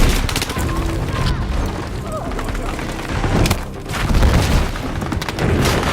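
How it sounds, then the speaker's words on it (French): Battlefield 6 combat: booming grenade blasts mixed with bursts of rapid gunfire in a loud, continuous battle soundscape, with voices shouting over the din. "J'envoie une grenade!"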